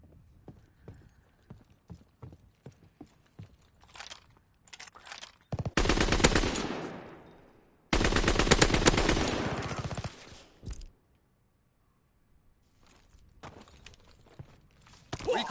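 Gunfire in Call of Duty WW2: scattered single shots and footsteps, then two long, loud bursts of sustained automatic fire, followed by quieter sporadic shots.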